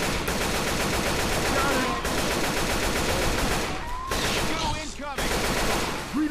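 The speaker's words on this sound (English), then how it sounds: "Holy smokes, they're shooting." Rapid gunfire in Left 4 Dead 2, sustained bursts of automatic shots close and loud, pausing briefly around the middle, with voices talking between the volleys.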